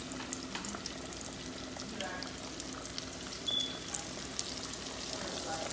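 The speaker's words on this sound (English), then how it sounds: "I'm gonna fry these pork chops for about 3 to 5 minutes." Thin pork chops frying in a small home deep fryer, two at a time: a steady, close hiss of bubbling oil with faint crackles, and a brief louder sputter midway.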